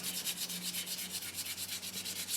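Sandpaper rubs back and forth on an air rifle's wooden stock in a steady, even rhythm of soft strokes, close and continuous with no voices.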